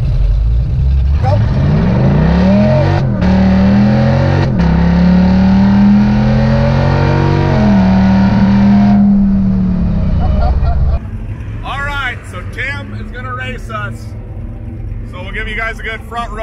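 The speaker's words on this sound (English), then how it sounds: "a twin turbo LS putting a gap on the Mazda" A twin-turbo LS-powered car races a Mazda at a hot rod event, its loud engine sweeping up through the gears in long rising pulls, then fading as the car pulls away while other engines and crowd noise carry on behind.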